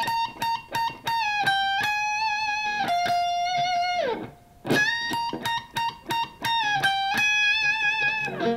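Electric guitar playing the chorus of a song, a run of crisp, close picked notes with slides and short rests between phrases, lightly effected with a faint edge of distortion, alone without talk.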